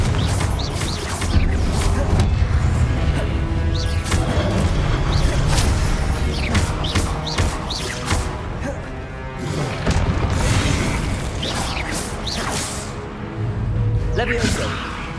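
Confringo fire spell in the Hogwarts Legacy video game, blasting in a run of loud crashing explosions and thuds mixed with game effects and voice across the whole stretch.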